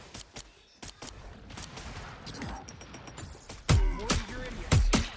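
Video game gunfire in Marvel Rivals as a player shoots at tanks, with scattered sharp shots and short bursts, heavier blasts near the end, amid a busy game mix.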